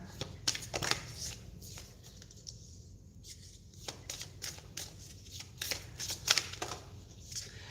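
Moon tarot cards are shuffled by hand, giving quick riffling bursts and soft card taps close up, with a short pause in the middle and faint talk in the background.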